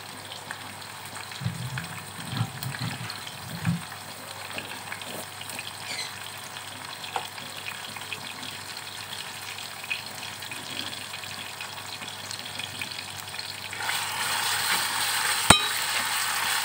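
Cassava leaves stir-fried in a pan for a home-style tumis, a steady soft sizzle running throughout with a few low clatters early on, brightening and growing louder near the end, with one sharp clink.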